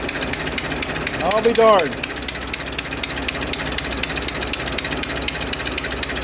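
A 100-year-old engine in a 1924 Dodge car runs at a steady idle with a fast even chug, close and constant throughout, with someone speaking briefly over it.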